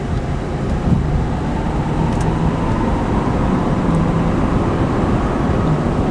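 A pickup truck with 500 horsepower and 1,200 pound-feet of torque accelerates on the highway, a steady broadband roar of engine and road noise heard from inside, with a faint rising tone.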